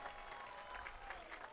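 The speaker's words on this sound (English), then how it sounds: "Give yourselves a round of applause for enduring this journey." A graduation audience at Berkeley City College gives a round of applause, heard as faint, distant, continuous clapping that stays even for the whole stretch.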